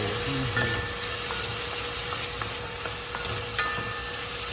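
Chopped onions and garlic sauté in a hot pan, giving a steady, close sizzle with soft crackles and a few faint clinks, continuous throughout without any talking.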